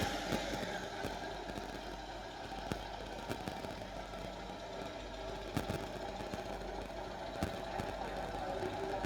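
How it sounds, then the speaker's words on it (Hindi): A Maruti Zen Estilo car engine idles in a steady low hum, with sharp clicks and ticks scattered over it. Nothing else is heard. "करेंगे कि इसकी इंजन की आवाज़ कैसी होती है"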